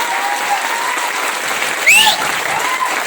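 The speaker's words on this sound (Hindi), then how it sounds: "उतना जुनून के साथ ताली तो बजाओ यार कम से कम" Audience applause fills a hall at an executive business event in Boisar, loud and dense throughout, with a brief whistle in the middle.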